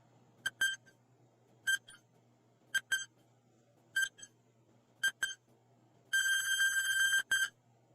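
A quiz countdown timer ticks out electronic beeps in a regular one-per-second rhythm, each a short double blip, ending in a longer sustained buzzer tone, clear over a faint low hum.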